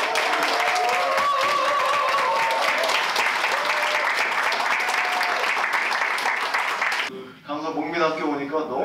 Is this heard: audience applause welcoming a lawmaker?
yes